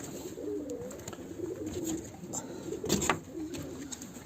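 Breeding pigeons kept with their chicks in a winter loft coo softly and repeatedly at close range, with a brief louder burst of coos and fluttering clicks near the end.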